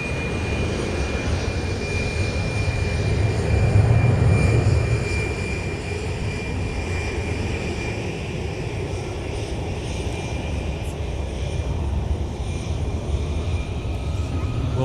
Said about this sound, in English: 737 MAX 9. And that aircraft's making its way by us 300 feet away from the center line of the taxiway